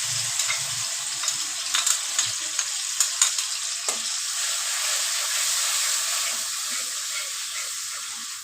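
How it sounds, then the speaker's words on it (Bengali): Ground spice paste sizzles in a hot pan as part of a chicken and bean seed dish: a bright, steady frying hiss with sharp crackles and spatula scrapes early on, close and fairly loud, gradually settling into an even sizzle. "বাটা মশলাটা দিয়ে দিচ্ছি"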